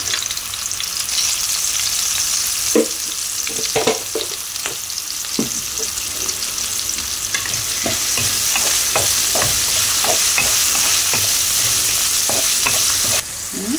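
Broad beans frying and sizzling in a pan with salt, a loud continuous hiss broken by repeated spatula stirring and scraping, close and without talk.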